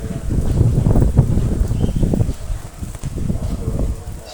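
Heavy rain and strong wind outdoors at a Padre Pio shrine, a loud steady roar with gusty buffeting against the microphone that eases briefly and returns.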